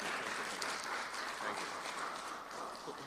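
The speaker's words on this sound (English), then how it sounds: "So please give him a round of applause" Steady applause from an audience at a national health research conference, a dense, even wash of clapping that fills the whole moment without pause.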